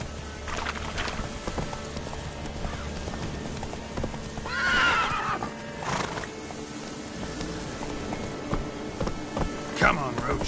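Roach, a horse in the video game The Witcher 3, neighs with a rising whinny amid hoof clip-clops and rain, with a second shorter whinny near the end and a voice speaking in between.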